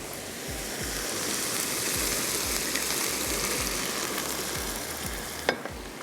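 A dense, steady sizzle and bubbling comes from a pan after water is poured into frying masala with browned onions and roasted ground cumin for bhartay wala qeema, loud and continuous with a faint clink near the end.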